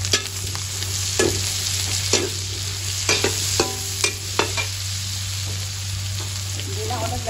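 Onions stir-fried for pancit bihon, a continuous close sizzle punctuated by repeated sharp scrapes and clacks of a utensil against the pan.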